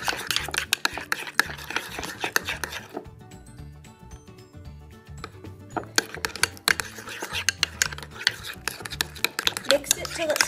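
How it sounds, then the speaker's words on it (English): A spoon stirs and scrapes through a thick mix of mayonnaise and olive oil in a bowl, with rapid clinking strokes, a brief pause, then more brisk mixing while a voice talks. "So just mix it really well."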